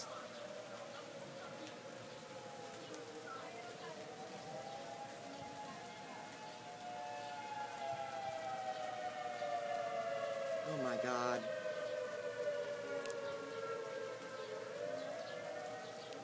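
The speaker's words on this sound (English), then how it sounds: "Tornado sirens. You guys hear that? Tornado sirens." Tornado sirens wail in a long, rising and falling tone, moderately distant, over a steady hiss of heavy rain during a storm, with a brief higher sweep partway through.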